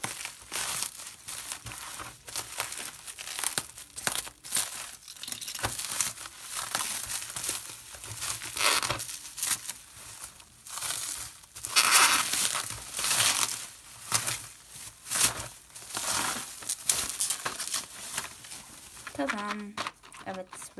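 Plastic packaging being torn open and crinkled around a pack of 24 pens, with dense close crackling and rustling bursts in steady succession throughout.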